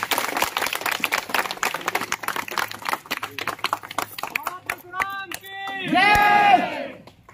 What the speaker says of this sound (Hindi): चलो ताली बजाओ भाई, स्वागत